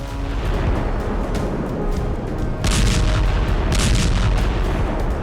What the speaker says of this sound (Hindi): ड्रोन ने बम गिराए और फिर तेज